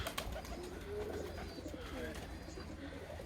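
Krymki Białostockie ornamental pigeons outdoors in the evening, soft repeated cooing and rustling close by over a quiet background.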